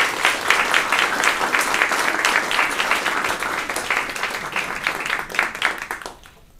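Audience applause welcoming a seminar speaker at a University of Michigan ecology and evolutionary biology seminar, steady clapping from a room of listeners that tapers off near the end.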